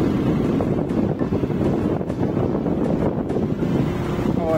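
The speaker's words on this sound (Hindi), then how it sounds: "तो गाइस नीचे देख सकते हैं झरने।" Rushing water roars from the Bhagsunag waterfall near McLeodganj in Himachal Pradesh, a loud, continuous broadband torrent heavily buffeted by gusts of wind across the microphone.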